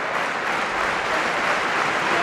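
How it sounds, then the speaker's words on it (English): A stadium crowd at an athletics meet claps steadily after a jump, a dense, even wash of applause at moderate level lasting the whole stretch with no talk over it. "It's the first time I've ever heard a crowd clapping after an athlete's jumped."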